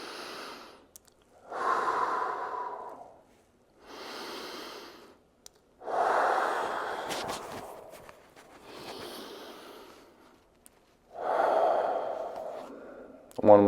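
Deep, slow breaths come during a seated shoulder stretch in an office setting, several long inhale-and-exhale cycles close to the microphone with pauses between them and no talking.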